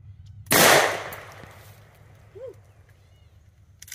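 A shotgun loaded with birdshot fires once at leftovers outdoors, a single loud, sharp blast that decays quickly into quiet ambient noise, with faint scattered sounds afterward.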